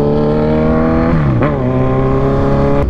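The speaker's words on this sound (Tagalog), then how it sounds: "Ganda talaga ng tunog ng Z1 kahit anong tambucho ilagay mo" A Kawasaki Z1000R motorcycle engine revving loudly and close, the pitch dipping and climbing again in a continuous throaty roar.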